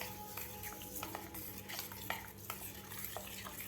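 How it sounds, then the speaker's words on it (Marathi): Raw green mango mixed with sugar and black salt being stirred in a pot, giving a steady scraping and clinking of a spoon against the vessel with small irregular knocks, close and fairly quiet with no talking. "आता व्यवस्थित आपल्याला हलवून घ्यायचं आहे याला."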